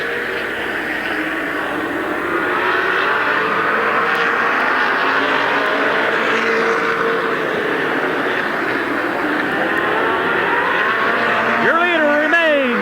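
Race cars roar around the oval at Midvale Speedway in 1990, a steady, loud blur of engines rising and passing, with a faint announcer's voice and crowd murmur in the background.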